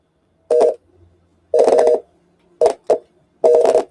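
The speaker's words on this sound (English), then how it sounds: "I'm getting this atrocious busy signal" A busy signal on a virtual Android phone running inside Linux, sounding as loud, close electronic tone bursts that start and stop in an uneven pattern against silence.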